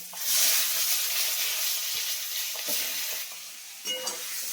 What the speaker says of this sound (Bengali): বেগুনটাকে ভালো করে ভেজে নেব